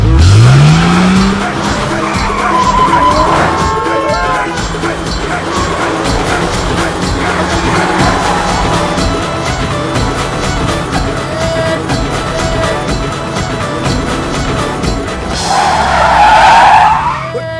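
A car skids with tires squealing loudly, first in a long screech and again near the end, over a sustained engine roar and background noise.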